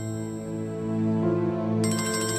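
A mobile phone ringtone plays steadily and loudly at close range, a sustained tonal electronic melody with a brighter layer joining near the end, no talk.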